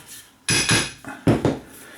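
A lump hammer and two steel bolsters being handled and knocked together, a few sharp metallic clanks and rattles in quick succession, close and loud, with no talk.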